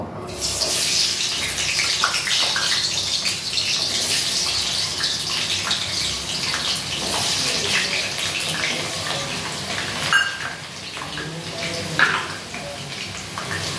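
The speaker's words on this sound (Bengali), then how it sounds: "তেল গরম হয়ে গেছে, এবারে আমি এই আলুগুলোকে ভেজে নেব।" Potato pieces sizzle and crackle steadily in hot oil in a pan over a gas flame, a continuous close hiss with occasional sharper pops.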